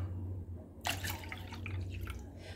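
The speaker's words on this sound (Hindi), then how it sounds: "मैंने यहाँ पर 2 गिलास पानी लिया है, वो इसके अंदर हम डाल देंगे।" Water being poured into yogurt in a kitchen while making dahi phulki, a faint splashing, gurgling pour that starts abruptly and carries on for nearly two seconds, with no talk.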